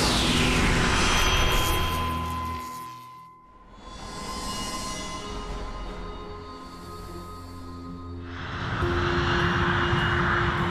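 A UPS cargo airplane climbs over Kentucky on an early summer morning, its engines a loud, continuous roaring drone that fades briefly and then swells again.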